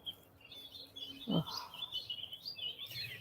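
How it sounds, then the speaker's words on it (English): Birds chirp and sing continuously outdoors, high and bright, with a brief low rumble partway through. "listen to the birds. Can you hear them? You probably can't miss them. They're so loud."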